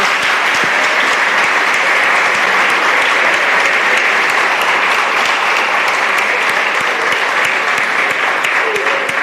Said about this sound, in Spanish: le damos un aplauso a Francisco